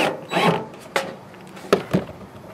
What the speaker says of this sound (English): the purpose of self-piercing is that it goes through this aluminum like butter.